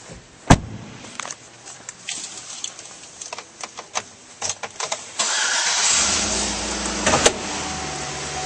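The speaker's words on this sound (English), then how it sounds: "And now we'll go start up this Avalanche." A 2013 Chevrolet Avalanche is started from inside the cab: a few clicks and door or window thumps, then the engine cranks and catches, settling into a loud, steady close idle.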